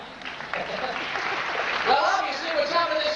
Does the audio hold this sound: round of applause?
yes